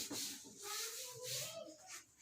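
Writing is rubbed off a classroom board during a physics lesson, giving steady, close, scratchy swipes in several back-and-forth strokes with no pauses.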